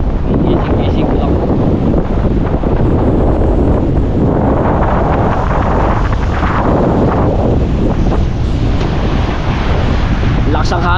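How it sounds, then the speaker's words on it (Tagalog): Strong seaside wind roars steadily into the microphone, with a broad rushing of surf underneath and occasional gusty buffeting, loud throughout. "Lakas ang hangin."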